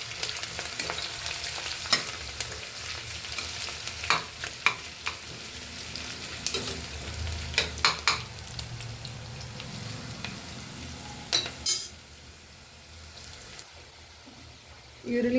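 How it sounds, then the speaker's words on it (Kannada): Onion frying with curry leaves in a pan, a continuous hiss under repeated spoon clicks and stirring scrapes, which drop away near the end. "ಈರುಳ್ಳಿ ಸ್ವಲ್ಪ ಚೆನ್ನಾಗಿ ಫ್ರೈ ಆಗಲಿ."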